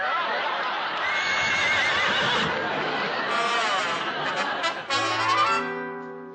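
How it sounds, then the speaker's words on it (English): A horse whinnies loudly and at length in a sitcom scene. A rising, shaky neigh carries on for several seconds, then fades into softer sounds near the end. "I wonder what's the matter with that darling horse"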